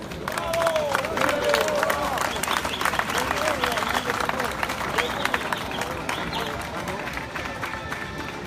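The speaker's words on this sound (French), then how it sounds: "Je vous demande d'applaudir celui qui était en selle" A racecourse crowd applauds the winning jockey after a horse race, steady sustained clapping and crowd murmur under a French announcer's voice, filling the whole stretch at even loudness.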